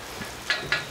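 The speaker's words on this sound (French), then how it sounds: "Alors il pleut désormais sur le roc au loup" Rain falls in the countryside at Roc au Loup, a soft continuous hiss with two brief, brighter splashy bursts close together in the short stretch.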